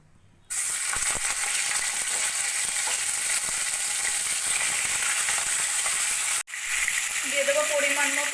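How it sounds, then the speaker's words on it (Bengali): Chicken pieces dropped into hot oil in a kadai for a Pakistani-style reshmi chicken curry, a sudden loud, steady sizzle that cuts out for a moment and resumes, with a voice speaking over the frying near the end. "এদিকে কড়াইতে তেল দিয়ে দিয়েছি, তেলটাও গরম হয়ে গেছে। এবার আমি চিকেনের পিসগুলো ছেড়ে দেব।"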